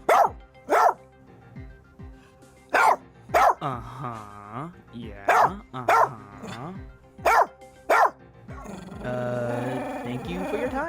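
A dog barks in loud, sharp bursts, about a dozen spread across the stretch, with drawn-out growls and whining sounds between them and a longer rumbling growl at the end; a voice is briefly heard too.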